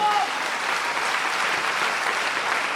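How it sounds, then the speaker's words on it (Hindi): Audience at a promotion event breaks into dense, sustained applause, a loud continuous wash of many hands clapping throughout. "इन सभी महत्वाकांक्षी लोगों के लिए दिल से एक बार जोरदार तालियां बजा दीजिए"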